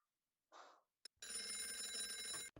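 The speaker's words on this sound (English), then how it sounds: "suffering every time the phone rings" A telephone bell rings loudly for over a second after a short breathy sound and a click, then cuts off abruptly.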